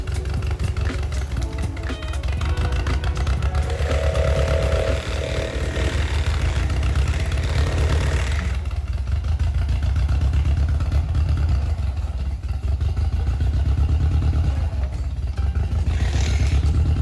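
A motorcycle engine held on a wheelie at a farm, a steady loud drone with clattering mechanical noise running throughout, dipping briefly midway.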